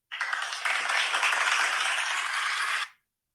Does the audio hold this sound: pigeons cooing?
no